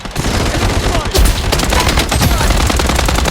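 Rapid gunfire rattles through a Blood Strike match, dense and loud, with bursts of automatic fire stacking into a nearly continuous clatter from start to finish.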